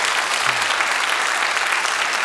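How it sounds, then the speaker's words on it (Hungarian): A studio audience at a 1996 Hungarian television show applauds and cheers, a steady, loud wash of clapping that fills the whole moment. "hagyom a közönséget tombolni persze."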